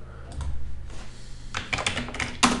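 Typing on a computer keyboard while entering a name into a PHP database form, a quick run of close, crisp key clicks in bursts over a low room hum, with no talking.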